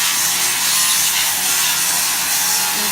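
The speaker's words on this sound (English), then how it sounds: "They're just finishing sanding the wall of the pool." Continuous loud power sanding scours the plaster wall of a swimming pool being stripped for renovation, a steady abrasive hiss with no breaks and no talking.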